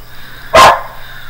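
A neighbour's dog gives a single sharp, loud bark up close, a brief burst that stands out against a quiet background.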